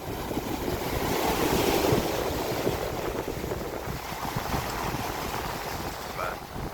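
Ocean surf breaking steadily near a shallow shoreline at Stump Pass, a continuous loud wash of waves with wind buffeting the microphone throughout.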